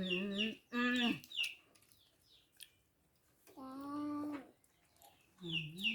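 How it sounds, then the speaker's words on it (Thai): Chickens cluck in short harmonic bursts near an outdoor meal of spicy banana salad in rural Thailand, with several loud calls separated by quiet gaps. "ระวังไก่นะลู"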